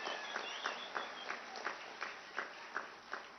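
A crowd at a political rally in Sonitpur, Assam claps in a faint, steady rhythm, with evenly spaced beats heard from a distance.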